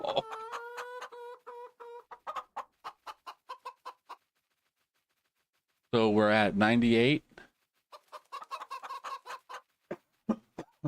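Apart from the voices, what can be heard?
chickens clucking in Farming Simulator 25 video game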